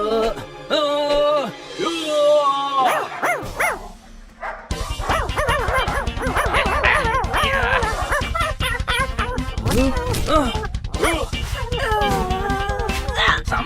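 A cartoon dog in a Hindi children's animated series barks in repeated yips and bow-wows that are likely voiced by a performer, with other character voices and lively background sound throughout.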